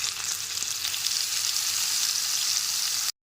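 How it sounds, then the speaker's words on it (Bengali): Onion, ginger, garlic, green chilli and tomato paste fry in hot oil with tempered spices for a chicken curry, giving a steady, loud, close sizzle that runs without a break until it cuts off abruptly at the end. "ফোড়নটা হালকা করে ভেজে নেওয়ার পর পেঁয়াজ আদা রসুন কাঁচা লঙ্কা টমেটোর পেস্টটা দিয়ে দিলাম"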